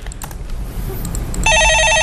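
A telephone rings with a bright repeating electronic trill during a Korean stock-market call-in radio show, cutting in loudly after a short stretch of studio background noise.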